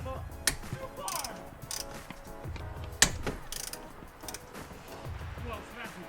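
A ratchet works on the 12mm nuts holding a clutch master cylinder in a 2015-2018 Subaru WRX engine bay, giving a few sharp clicks and metallic clanks amid quiet handling noises.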